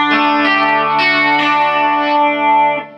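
Electric guitar played through a Rockman unit with the tone control turned up, giving bright, distorted, chorus-laden sustained chords, a few strummed attacks ringing out loud and close with no talking.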